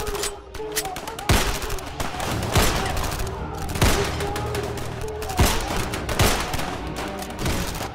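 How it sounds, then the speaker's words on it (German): Gunfire from a radio drama shootout in which kidnappers fire on police officers, with dense rapid volleys and heavy single shots crackling loudly throughout, close and continuous. "auf die Beamten zu schießen."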